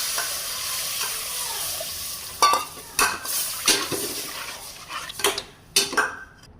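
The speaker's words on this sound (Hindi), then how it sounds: "इसमें दूध डालेंगे।" Milk poured into roasted flour in a pan and stirred for a white sauce for macaroni: a low background hiss, then a series of loud, close spoon scrapes and clatters against the pot in irregular bursts.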